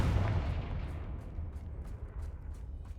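Confringo blasting spell exploding on a bridge in Hogwarts Legacy, a loud booming blast that rumbles and then trails off into a low roar with faint crackles, with no talk.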